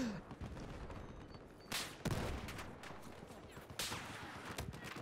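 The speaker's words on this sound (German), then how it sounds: "ich höre nur Sniper-Schüsse" Sniper rifle shots in the shooter Battlefield 4, two sharp cracks standing out from continuous distant battlefield gunfire and rumble, with tank combat going on nearby and moderate, fairly even loudness throughout.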